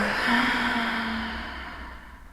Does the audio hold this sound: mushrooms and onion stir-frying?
no